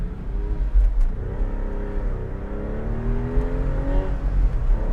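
A 20-year-old Porsche accelerating hard on a back road, its engine note climbing steadily through the revs with a rising whine, close and loud from inside the car, with no talking.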